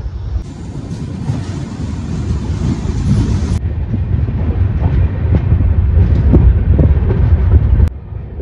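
Duars Express train pulling out of Bagdogra station, heard from onboard as a loud, continuous rumble with rhythmic wheel clatter building steadily.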